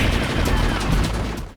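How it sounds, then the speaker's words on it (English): A dense, continuous burst of gunfire and blasts from the 1999 arcade game Flame Gunner, loud and chaotic, that cuts off abruptly after about a second and a half. "Each mission pricks your ears with the sounds of gunfire, explosions, and grunts."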